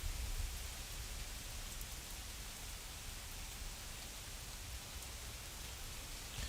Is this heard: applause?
no